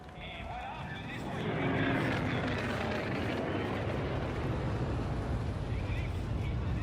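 Airplane in Call of Duty: Infinite Warfare, a loud rushing engine roar that swells after the first second and holds steady, with voices speaking over it.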